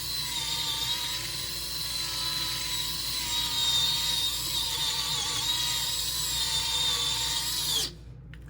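A new electric sander whines steadily at high pitch while sanding a scratched resin tray to prepare it for a smooth topcoat, then cuts off abruptly near the end.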